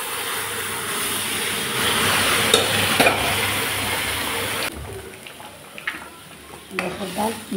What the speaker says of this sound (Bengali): দিয়ে দিলাম কড়াইতে সরষের তেল, দিয়ে দিলাম শুকনা লঙ্কা 2 টুকরা আর কালো জিরা।